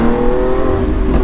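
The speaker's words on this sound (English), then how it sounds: "every time I hear that exhaust" Loud, close V12 exhaust roar from a 759 hp Lamborghini Aventador SVJ Roadster, a brief steady blast of engine tone with no voices.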